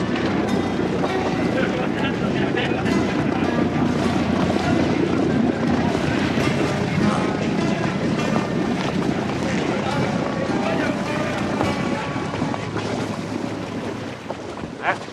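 A ship at sea rumbles with a steady, loud engine drone mixed with rushing water and wind, continuous throughout with no break, fading slightly near the end.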